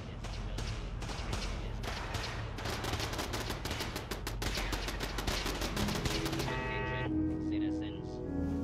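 Gunfire in a Fallout video game: dense, rapid bursts of shots crackle nearly continuously for several seconds, then taper off into softer tonal game effects.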